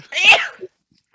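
A single sharp sneeze, loud and close, bursting out and ending abruptly, followed by silence.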